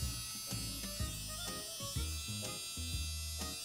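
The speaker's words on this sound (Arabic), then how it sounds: "كده انا موصل المكنسه المفروض، فالمفروض لو عملت كده ده صوتها نفس صوت السشوار بالظبط" Tiny vacuum cleaner running with a steady, whiny motor drone much like a hair dryer, loud and close, its pitch wavering in a regular pulsing pattern, with no voices over it.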